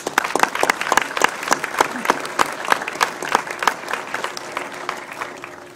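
A student center grand opening audience applauds the building's contractors with a moderate round of distinct claps that thins and softens toward the end, with no talk.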